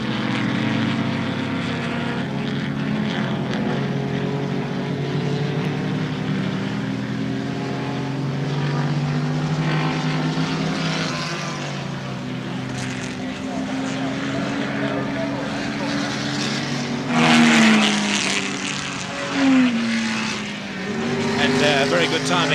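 Touring cars race at Warwick Farm in 1972, engines droning continuously at a distance with rising and falling pitch as cars pass, while a commentator talks over the noise.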